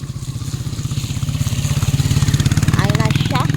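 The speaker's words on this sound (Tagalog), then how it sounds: "There's another motor coming up." A motorcycle engine drones steadily nearby on a muddy rural track, its throbbing pulse growing louder as it approaches, with people talking over it.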